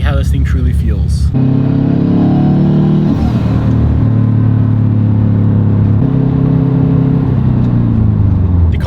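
A fully built Subaru STI drives out on the street, its loud engine droning up through rising and falling pitch with gear changes, close and dominant after a brief voice at the start.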